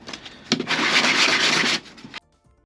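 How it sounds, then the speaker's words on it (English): Steady, close scratchy rubbing of sandpaper by hand on a replica Dune Crysknife, a continuous gritty stroke for over a second before stopping abruptly. "So I'm just going to carry on sanding that"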